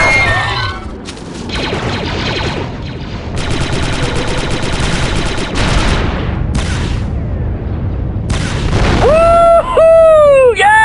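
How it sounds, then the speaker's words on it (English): Explosions and gunfire in the Star Wars Republic Commando video game, dense bursts and booms with rapid fire over several seconds, ending in descending whining sci-fi tones. "my scanners show an explosion"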